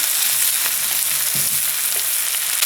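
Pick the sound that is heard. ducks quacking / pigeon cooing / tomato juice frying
tomato juice frying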